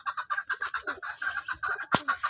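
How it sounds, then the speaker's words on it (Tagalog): A red junglefowl in a rural Philippine backyard gives a steady run of close, rapid clucks with a brief sharp noise partway through. "Ayun yung labuyo"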